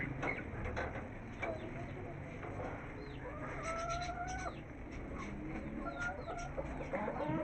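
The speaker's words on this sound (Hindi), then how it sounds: "और मुर्गी हैं हमारी बारिश में" Hens outdoors in rain at a backyard coop, soft scattered clucks and chirpy calls over a steady hiss of rainfall, with a few other birds faintly in the mix.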